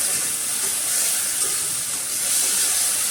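Spice masala for a Bengali-style crab curry frying in a pan, a steady loud sizzle and hiss running alone and unbroken throughout.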